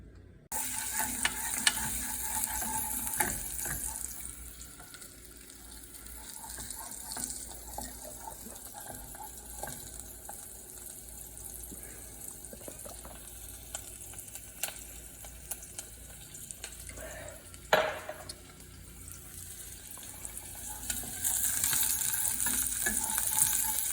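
Chopped onions frying in hot oil in a pan, a steady low sizzle building through the clip with occasional clinks and stirring, no voices.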